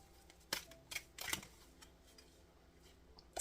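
Tarot cards are shuffled close up in a quiet room, a few soft crisp riffles and taps in irregular bursts, faint and sparse, with no talking.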